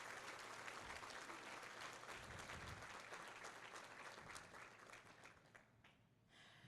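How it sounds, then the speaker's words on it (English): An awards-gala crowd at a women's excellence ceremony gives a round of applause, a steady dense clatter of many hands heard from a distance at low level, fading in the last second. "let's give them a round of applause"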